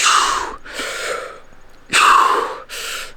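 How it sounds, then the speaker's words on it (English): Four loud, forceful breaths in quick succession during weighted pull-ups, heavy exhales and gasping inhales with short pauses between them, close to the listener. "I could hear myself breathing in the last one."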